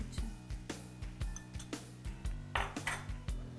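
Gram flour with fenugreek and cumin is stirred and roasted in a pan, heard as a steady run of metallic scraping and clinking strokes from a spoon against the pan, fairly close, with no speech.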